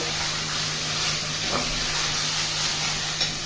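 Spice paste for chicken korma frying with splashes of water over a medium flame, giving a steady, close hiss and sizzle with a faint low hum beneath, continuous with no talking.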